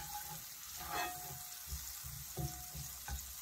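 Onions sautéing in a pan for sautéed string beans with minced beef, a steady close sizzle broken by a few soft stirring knocks.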